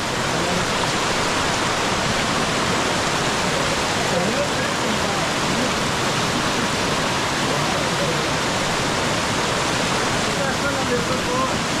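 Hidlumane waterfall in forest near Kodachadri, a steady, loud, unbroken roar of rushing water filling the whole stretch, with faint voices buried under it.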